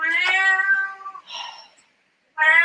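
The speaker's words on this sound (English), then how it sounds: "he meows really loud" A pet cat meows loudly and insistently, two long drawn-out cries followed by a shorter one after a brief pause, close and clear with no other sound.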